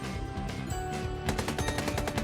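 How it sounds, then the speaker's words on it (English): Gunfire rattles in the horror video game Doki Doki Anomaly, a burst of rapid repeated shots over an ongoing music-like background, fairly quiet overall. "Gunfire erupts from behind."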